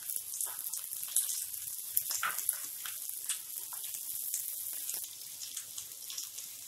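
Finely chopped green chili, cabbage and carrot fry in a pan for Indian-style egg noodles, giving a steady, hissing sizzle with small crackles and no talking.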